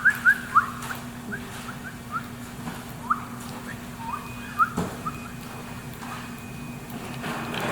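A person whistles short, scattered rising notes in bursts while working on a custom denture tray, with quiet workshop noise in the background.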